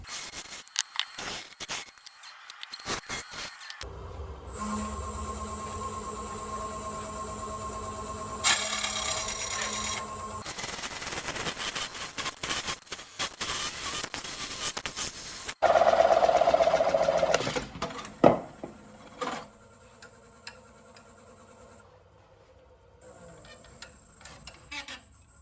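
A wood lathe cuts a recess into a bowl blank in uneven bursts of scraping and rubbing, alternating with a steady tonal whine and a few quieter pauses, heard close up.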